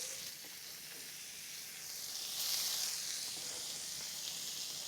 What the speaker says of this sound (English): I've got olive oil back in the pan where I cook my sausages. I'm gonna throw my onions into there.